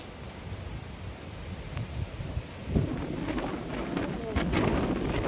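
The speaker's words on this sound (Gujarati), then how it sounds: "ભાઈ પવન એટલો બધો આવે છે ને અતિશય પવન આવે છે" Strong wind buffeting outdoors during rainy weather, a rough low rumble and gusty rustle that swells toward the end, with a voice faintly present beneath.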